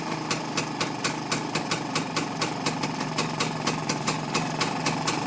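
A Rajdoot 175 motorcycle engine idles steadily during carburetor tuning, with a regular, evenly spaced ticking beat over a constant mid-pitched hum, alone and close.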